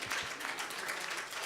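Dense, steady clapping from an audience at an event, greeting the arrival of a starter course of cucumber and lime jelly; the sound is continuous and fairly loud throughout with no voices over it.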